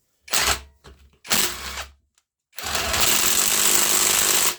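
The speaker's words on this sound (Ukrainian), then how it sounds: "мені подобається, як крутить" A cordless impact wrench bought from AliExpress hammers as it tightens bolts, two short loud rattling bursts followed by a longer sustained run, close up, with no voices.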